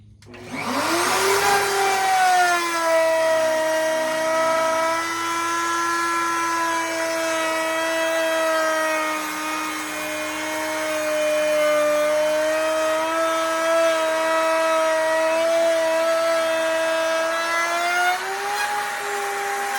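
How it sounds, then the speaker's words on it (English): Router running across an epoxy table, a loud, steady high-pitched motor whine that spins up at the start and holds nearly constant with slight dips in pitch as it cuts, close and alone. "I got done running the router over the table"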